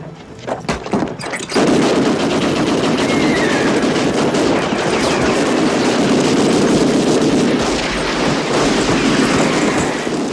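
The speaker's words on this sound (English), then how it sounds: "The first Gatling guns could fire 200 rounds per minute." Gatling gun firing in a continuous rapid burst after a few opening shots, a dense, loud, rattling stream of rounds that keeps going without a break.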